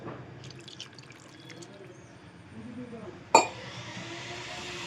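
Water is poured into a chicken pakora batter mix of rice flour and carom seeds, starting abruptly as a steady splashing rush after faint drips and light clinks of a bowl.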